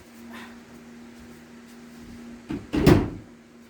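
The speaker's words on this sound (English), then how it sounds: "So let me shut the door so it stops banging." An indoor door pushed shut, a soft creak followed by a solid thud close by, over a faint steady hum.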